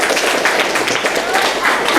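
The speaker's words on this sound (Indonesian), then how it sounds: "Oke, tepuk tangan untuk kelompok 3" A group of school students at a museum in Aceh claps for a team, a dense steady burst of applause lasting a couple of seconds, close and loud.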